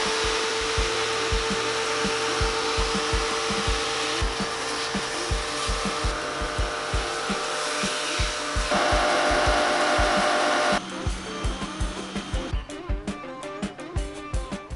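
A Muc-Off bike-specific pressure washer rinses a mountain bike, giving a steady, loud hissing spray that continues throughout, interrupted by irregular knocking and clattering, with the spray character shifting partway through.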